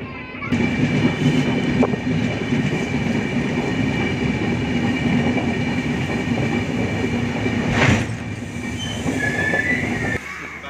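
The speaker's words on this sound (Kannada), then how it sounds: "ಮಂಡ್ಯ ಸ್ಟೇಷನ್ ಇನ್ನೇನು ಸ್ವಲ್ಪ ಹೊತ್ತರಲ್ಲಿ ಟ್ರೈನ್ ರೀಚ್ ಆಗುತ್ತೆ" Riding aboard a weekly express on the Mysuru to Bengaluru line as it nears Mandya station: a loud, continuous rumble of wheels on rails, with a brief metallic squeal near the end.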